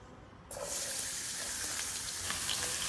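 Eggplant and other vegetables, with cumin seeds and a spoon of clarified butter, hit a hot pan and erupt into a loud, steady sizzle that carries on with faint stirring noises.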